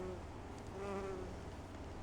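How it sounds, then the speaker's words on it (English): Carpenter bees and bumblebees buzz around Provence lavender in a zone 8a garden in June, a soft, close droning hum that rises and wavers briefly before fading back under the quiet outdoor background. "we've got a little carpenter bee, a bumblebee visiting the Provence lavender."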